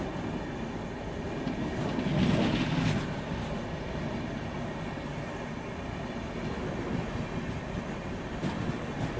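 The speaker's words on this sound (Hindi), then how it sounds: "संगम एक्सप्रेस के साथ अपनी क्रॉसिंग हो रही है यहाँ पे।" A passenger train runs slowly in fog as it passes another express, with a faint, steady rumble of wheels and carriages, a soft swell of clatter early on, heard from inside the coach without talking.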